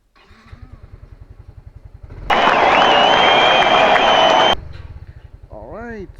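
A Yamaha Mio i125s scooter fitted with a new iridium spark plug idles with a steady low putter, then roars into a loud, sustained rev for about two seconds before settling back to idle as a voice briefly speaks.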